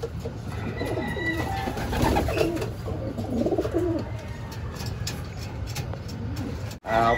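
Pigeons in a racing pigeon loft with a trapdoor in Abucay, Bataan coo softly and repeatedly under steady background noise, while people talk nearby.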